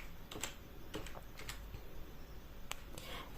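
Computer keyboard typing comes as sparse, separate key taps spaced irregularly across the stretch, quiet and close over faint room noise.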